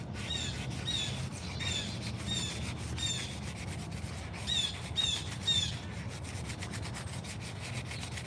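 Repeated high, thin bird chirps sound over a steady scraping, rubbing noise close by of a spoon being carved with primitive tools, coming in short bursts of calls.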